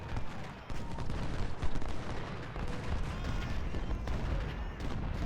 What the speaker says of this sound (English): Cannons are getting closer.